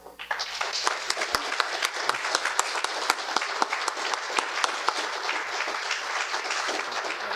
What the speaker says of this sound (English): I'd like to have you give a rousing round of applause for Mac Sawyer.